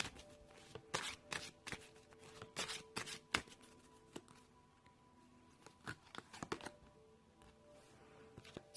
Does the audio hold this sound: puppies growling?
no